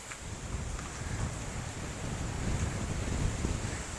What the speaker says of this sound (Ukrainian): Сьогодні вітер дуже сильний. Не знаю чи не вплине це на звук.